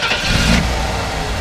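A 1991 Ford F250 XLT Lariat pickup with 74k miles fires up, a brief starter crank catching into a steady, smooth idle, close and alone.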